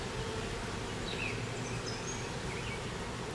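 A colony of bees being removed from a hive in Danville, Virginia, buzzes in a steady, dense drone, fairly soft and continuous with no voices over it.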